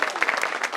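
A short, dense burst of audience clapping at a village ceremony opening a new water tank in Gujarat, many hands together, close and fairly loud.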